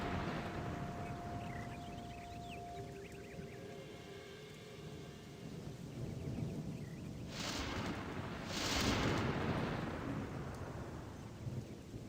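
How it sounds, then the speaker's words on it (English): A rumbling in-game thunderstorm from Gothic II, a steady wash of rain and wind with two louder thunder crashes rolling through near the end, and no talk over it. "Need the storm to stop."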